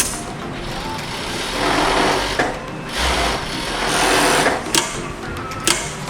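An overlock serger machine whirs loudly and continuously while sewing a test seam after its needle tension is adjusted, a steady close mechanical drone with a few sharp clicks near the end.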